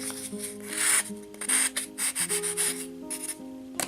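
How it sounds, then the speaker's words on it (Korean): Scratchy rubbing strokes of a sponge sandpaper shaping a miniature box, in quick, uneven bursts, close by, over a steady hum of background music. "이런 스펀지 사포나 종이 사포를 활용해서 마무리를 해주면 훨씬 매끄럽게 됩니다"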